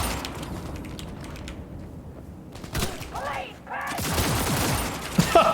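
Gunfire in the video game Cyberpunk 2077 comes as short bursts of fast, crackling shots mixed with game effects, while someone talks over the action.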